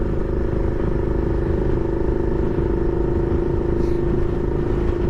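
A motorcycle is ridden at a steady pace, its engine holding an even droning note under constant road and wind rumble, close and continuous.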